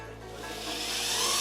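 A power tool grinds a bevel into a quarter-inch-thick metal gusset bracket for a chopper motorcycle frame, a rising abrasive rasping whine that grows louder and brighter over the short burst, with no talking.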